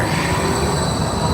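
A train rumbles past close by, a loud continuous roar of rolling wheels and rail noise with faint high squeal, no voices.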